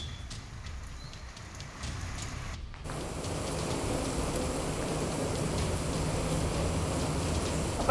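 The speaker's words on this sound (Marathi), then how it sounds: "आपण पाहू शकतो की पंढरपुरामध्ये सुद्धा अवकाळी पाऊस कोसळतोय" Unseasonal early-May rain falls on the streets of Pandharpur, a steady broadband hiss of drops on hard surfaces that grows louder and denser after a brief break, with no voices.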